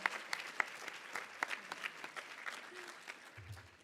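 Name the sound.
final round of applause at student banquet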